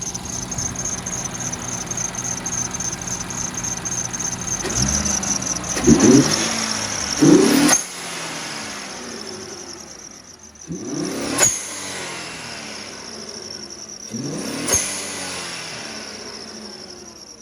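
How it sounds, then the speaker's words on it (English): An Infiniti Q50 Red Sport engine revs several times from warm idle, each rise ending in a sharp hiss from the HKS blow-off valve, close and loud between quieter idling stretches. "I just want to let y'all hear the HKS blow-off valve."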